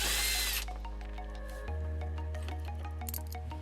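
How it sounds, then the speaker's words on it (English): A 10mm bolt being backed out on a 2006 Honda CR-V with a power driver, a brief buzzing whir followed by a steadier lower motor hum and small clicks, close and fairly quiet. "So now we're going to remove the 10mm bolt that is right here"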